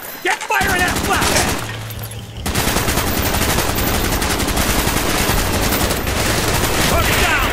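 Call of Duty: Black Ops gunfire, loud and sustained, with rapid automatic bursts and some shattering, starting after a brief quieter moment and filling the rest of the scene.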